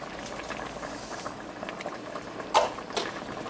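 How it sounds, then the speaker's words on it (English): Blackberry sauce bubbles at a rolling boil in a pot, a dense, close, continuous blubbing with a couple of louder pops near the end and no talking. "once we have this to a good rolling boil"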